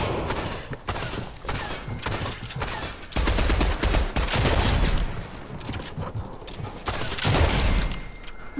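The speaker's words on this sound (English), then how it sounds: "I'm trying to shoot him from down here." Rapid bursts of gunfire in the Fortnite video game, dense clattering volleys in several clusters separated by short gaps, loud and close.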